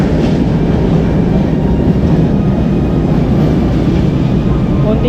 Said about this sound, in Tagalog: So guys, meron na LRT.